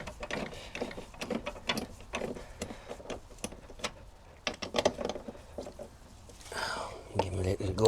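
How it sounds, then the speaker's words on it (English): A hand ratchet clicks in short bursts while tightening bolts into aluminium on a BMW E60 dashboard, close mechanical ticking with someone speaking quietly over it. "Give them a little go of the ratchet then."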